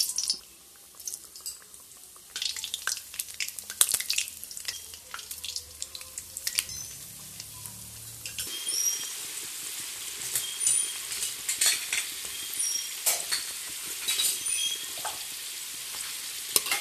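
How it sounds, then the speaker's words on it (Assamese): Shrimp fry in hot refined oil, a close, bright crackling sizzle that starts faint with some stirring and swells into a steady loud spattering hiss, with no talking. "এতিয়া ইয়াক ৰিফাইন তেলত ফ্ৰাই কৰিম।"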